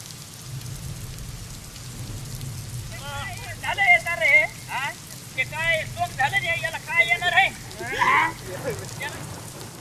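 Cloudburst-like heavy rain pours steadily over farm fields, a constant wash of falling water under a voice talking in the foreground.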